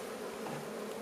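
Honeybees drone in a steady, dense buzz from an open hive, a continuous close swarm hum with no voices.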